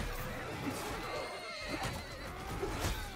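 A horse neighs and whinnies in the game Mount & Blade II: Bannerlord, with hoofbeats and muffled battle noise underneath at moderate volume.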